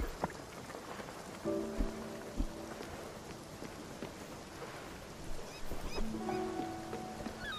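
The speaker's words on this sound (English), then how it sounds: "Oh, now it starts raining." Rain falls in the Spiritfarer video game, a soft steady patter of drops on surfaces heard at low volume, broken by a few brief thumps and short tonal game sounds.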